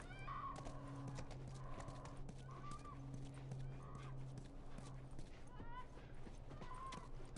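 A horse in The Last of Us whinnies several times over steady clip-clop hooves, with a low ambient hum underneath.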